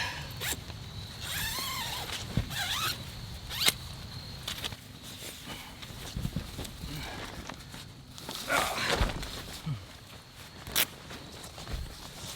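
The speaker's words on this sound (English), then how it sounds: "undo this sleeping bag" A sleeping bag being unzipped inside a tent while camping with a dog, a close zipper rasp among rustling fabric, shuffling and creaks, with brief muffled voice sounds.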